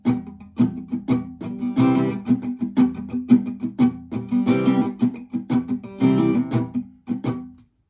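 Acoustic guitar strummed in a steady rhythm, alternating between ringing C prime chord strokes and percussive muted chops, close and fairly loud with no voices, ending in a brief pause.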